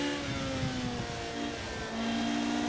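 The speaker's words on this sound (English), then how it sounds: "And those turbos, that turbo spools up." Turbocharged engine of a Ferrari F40 in the racing game Project Cars 2 at Les Essarts, a loud steady drone with a rising turbo whine and a continuous whirring roar throughout.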